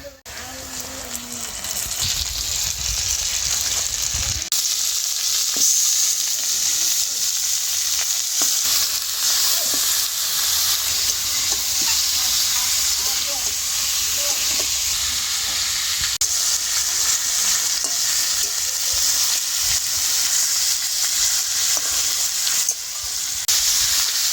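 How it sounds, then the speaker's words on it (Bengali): Chicken pieces hit hot oil in a pan with lightly fried onion and chopped garlic for a Bengali chicken stew, giving a loud, steady sizzle with stirring scrapes that lasts throughout, close up, with no talking. "এই যে এইবারে দিয়ে দেবো চিকেন।"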